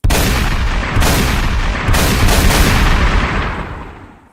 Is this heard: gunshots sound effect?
yes